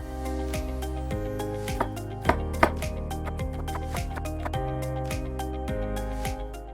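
A knife chops a red bell pepper and other vegetables into very small pieces on a board, a quick, steady run of crisp close strikes over faint constant background music.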